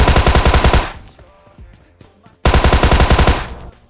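Rapid automatic gunfire from the BGMI battle royale game, two loud sustained bursts separated by a quieter stretch with faint game effects, no talking.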